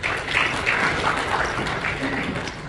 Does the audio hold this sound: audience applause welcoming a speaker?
yes